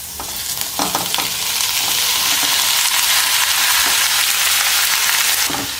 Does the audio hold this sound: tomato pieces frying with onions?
yes